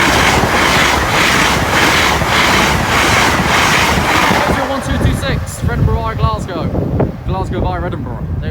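A Class 91 electric train passes a level crossing, a loud sustained rumble with wind noise filling the first half, then fading as people talk over the quieter remainder.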